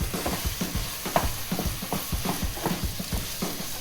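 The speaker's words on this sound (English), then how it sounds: "I have some oil in a pan. I'm about to saute some onions. I place the meat in there." Meat and onions sizzle in an oiled pan while being stirred, a close, steady frying hiss broken by rhythmic scraping and stirring clatter.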